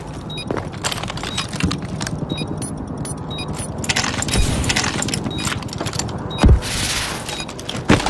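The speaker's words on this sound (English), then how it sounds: "I'm reloading." Metallic clicks and clacks of a weapon reload in a first-person shooter played as a 2v2 quick-scoping match, scattered mechanical rattles and a heavier thump near the end over steady game background noise.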